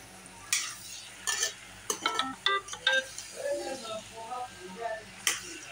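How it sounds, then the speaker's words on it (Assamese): A utensil scrapes and knocks against a pan in irregular strokes while duck meat with ash gourd and potatoes sizzles softly underneath, with a voice speaking at times. "লাহে লাহেকৈ লৰাই থাকিব মাংসটো"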